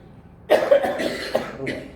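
A few close coughs in a short burst, rough and throaty, with a faint voice-like texture mixed in.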